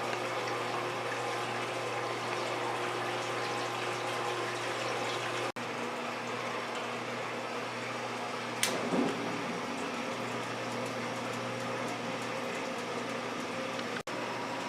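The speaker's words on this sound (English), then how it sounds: "We are filling the mash tun." Cold tap water runs steadily into a mash tun for all-grain beer brewing while a stirrer turns, a constant soft rushing fill with a couple of faint clicks and a small splash partway through.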